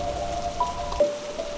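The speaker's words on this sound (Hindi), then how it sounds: "बारिश आहिस्ता आहिस्ता तेज़ होती जा रही थी" Heavy rain falling in a Hindi horror animation, a steady broadband hiss that continues evenly for the whole stretch, with a faint sustained tone sitting under it and no voices.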